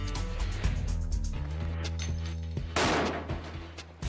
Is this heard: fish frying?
no